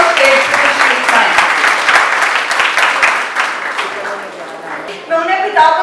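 An audience at a May Day rally of domestic workers demanding social security applauds loudly, a dense crowd clapping that swells and ebbs over several seconds, with a voice speaking over a loudspeaker near the end.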